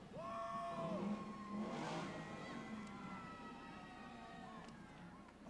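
Decorated cars rolling by in an Independence Day parade in Bel Air, engines humming at moderate distance amid crowd noise, with whistle-like tones and a swell of cheering in the middle.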